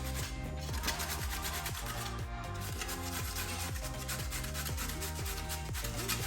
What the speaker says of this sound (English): Grate on the pumpkin in the flour